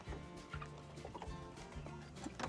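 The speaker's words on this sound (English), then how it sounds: "excuse me, chicken." Chickens clucking close by at a rural horse-rescue farm in Tenerife, a steady run of short clucks over a busy, fairly loud background with no talk.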